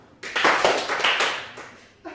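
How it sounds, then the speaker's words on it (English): A comedy club audience claps enthusiastically on a stand-up comic's cue, a quick burst of close, loud hand claps that fades out, then a fresh round begins at the very end. "So, you guys clap."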